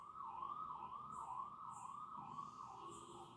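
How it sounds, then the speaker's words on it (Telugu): An ambulance siren wails in a steady up-and-down pattern as the vehicle passes, heard from a distance and fairly faint, with no talking. "అంబులెన్స్ వెళ్తుందండి."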